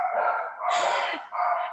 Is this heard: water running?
no